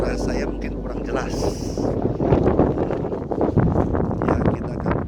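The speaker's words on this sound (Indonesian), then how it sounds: "Perjalanan cukup panjang, angin cukup kencang." Strong wind buffeting the microphone on the summit of Mount Slamet, 3428 m, reached via the Bambangan route in Purbalingga, a loud continuous roar and rumble with someone speaking over it.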